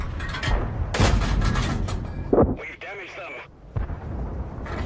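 Tank cannon blasts and explosions from the video game World of Tanks, a few sharp booms with rumbling tails mixed under a narrator talking.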